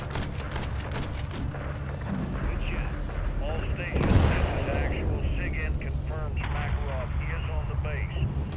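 A missile launches in a Call of Duty Modern Warfare III combat scene, a loud whooshing boom rising midway through continuous rumbling artillery and gunfire, with voices talking over the battle.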